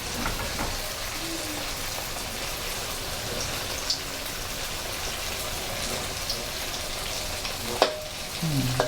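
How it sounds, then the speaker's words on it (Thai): Tofu frying in a pan crackles with a dense, steady sizzle like rain, broken by a couple of faint clinks and a utensil scrape near the end. "เต้าหู้มันเซ็ตตัวแล้วนะคะ ก็สามารถกลับได้ค่ะ"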